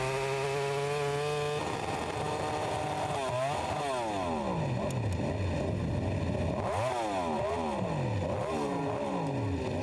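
MotoGP race bike with a gear selector problem, its engine revving and sweeping up and down in pitch as it struggles to find gears, loud and continuous with repeated rising and falling whines.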